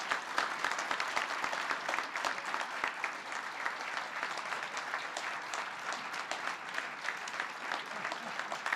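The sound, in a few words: applause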